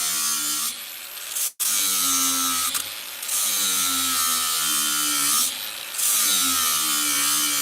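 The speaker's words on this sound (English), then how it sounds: "hand me that, the sander grinder. Polish one. I'm gonna cut them down just a little bit more," A sander grinder fitted with a flap disc cuts down rivets on a hay baler, giving a loud, steady high-pitched whine that dips briefly as the load shifts, continuous and close throughout.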